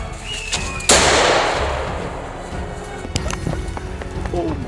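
A single loud, close gunshot fired at a charging feral boar in Texas woodland, its crack decaying over a couple of seconds, followed by rustling and scattered clatter.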